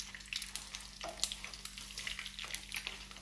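Shrimp okoy fritters crackle and sputter in hot oil, a dense, close sizzle with rapid popping throughout the brief moment.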